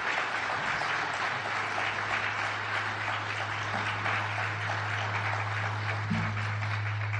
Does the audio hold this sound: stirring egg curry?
no